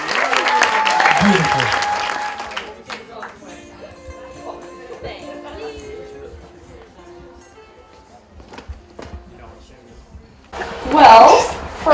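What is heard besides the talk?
wedding guests applauding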